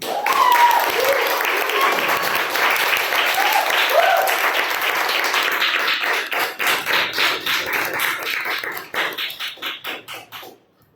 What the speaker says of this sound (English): with a thunderous round of applause, please help me welcome President for current term